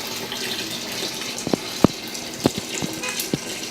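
Water at 152 degrees, three gallons of it, runs steadily as sparge water poured over mashed grain for a farmhouse IPA, a continuous close splashing flow with a few brief knocks and drips.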